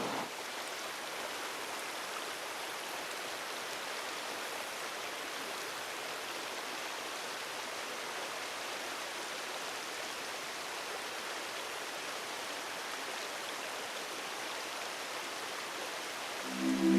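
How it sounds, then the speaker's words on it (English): A stream of water rushes between stones, a steady, full broadband wash of moving water that holds an even level throughout with no voices. "the water just rushing between the stones, you know, and making that beautiful sound"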